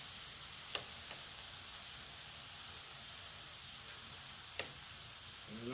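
Chopped beef for a Philly cheesesteak sizzling on a hot surface, a steady close hiss with a few faint clicks and taps of a utensil, no voices.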